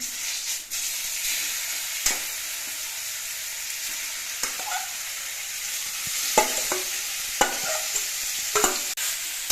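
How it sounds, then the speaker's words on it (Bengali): Olives frying with panch phoron and dried red chilli over lowered flame, giving a continuous bright sizzle broken by several sharp scraping stirs of a spatula against the pan, close and fairly loud. "এবার গ্যাসের ফ্লেমটা কমিয়ে নিয়ে কিছুক্ষণ নাড়াচাড়া করে জলপাইগুলো ভেজে নিতে হবে"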